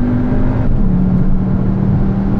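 A steady, deep engine hum with a faint whine holds at a constant level, like a car engine droning at moderate revs; synthetic engine sound played through a Cupra Formentor 310 hp's cabin speakers, mimicking a five-cylinder turbo.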